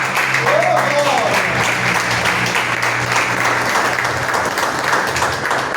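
A church congregation at a mission service breaks into sustained applause, a dense, steady wash of many hands clapping at close range, with a few voices and a brief vocal sound in the background.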